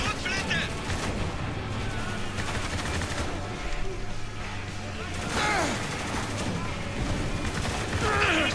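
Heavy gunfire and booming blasts in the video game Spec Ops: The Line rattle continuously, with automatic bursts layered together and voices talking underneath.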